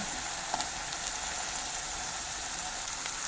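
Chili added to spices frying in a pan for a rohu fish curry, a steady hissing sizzle throughout with a couple of faint clicks near the start, no voices.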